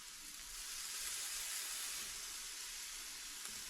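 Venison burgers fry on a low stovetop burner, giving a soft, steady, even hiss of sizzling that stays faint throughout with no talking.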